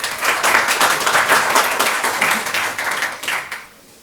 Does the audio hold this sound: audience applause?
yes